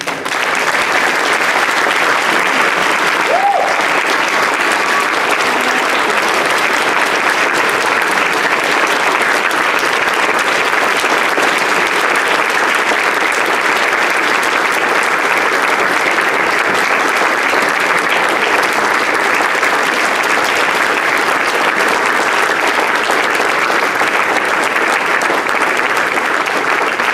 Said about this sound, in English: would you please join me with a round of applause in welcoming Michelle Bailey to the stage